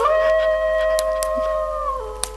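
A dog howls in one long, steady, tonal cry that dips lower near the end, with a few faint clicks and taps around it.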